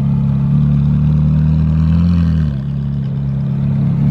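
A Ferrari 458 sports car engine at a Cars and Coffee meet gives a loud, close, steady low drone that holds high, then dips slightly and settles near the end, with no talk.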